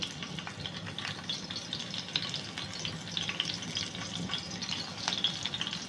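Green chillies sizzle in hot oil on a flat tawa griddle, a steady close crackle with bright spitting pops throughout and no voices.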